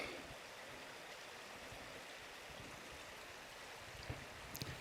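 Forest stream in Wayne National Forest, Ohio, flowing past old oil pipes, a constant soft rush and trickle of water, faint and steady, with a couple of small clicks near the end and no voices.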